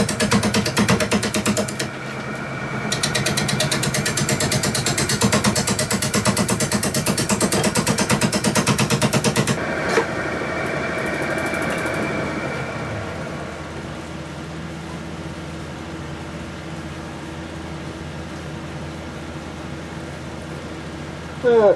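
A wood lathe spins a sweet gum bowl at about 530 RPM, a loud, steady, dense whir and rattle of cutting for about ten seconds, then dropping to a quieter, smoother hum as the tool eases off.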